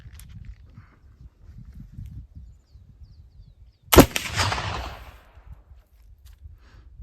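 A single black powder gunshot using a low-sulfur 77-15-8 mix, one sharp loud crack with a short rumbling tail, set against quiet outdoor background murmur.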